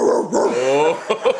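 A dog close by lets out a quick run of high, whining yips and short barks, loud and urgent, over a second and a half.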